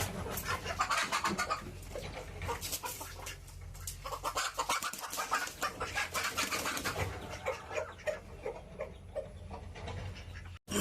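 A hen clucks loudly and repeatedly inside a coop, in an agitated, continuous stream of calls close to the microphone with no talking.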